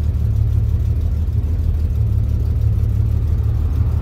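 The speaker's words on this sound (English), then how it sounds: "the engine sounds like it's bogging down a little bit" A 1989 Jeep Cherokee engine idling after a swap to 12-hole fuel injectors, a steady low rumbling drone with a slight bogging character, close and continuous with no talking.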